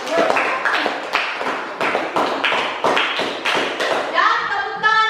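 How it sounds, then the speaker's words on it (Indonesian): A school class claps hands together in short, rhythmic bursts of sharp, close claps in a repeated patterned beat, with children's voices joining near the end. "Oke, tepuk tangan semuanya."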